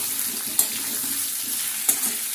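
Potatoes and peas fry in a pan with a steady close sizzle, while a spatula stirs them and clacks sharply against the metal twice.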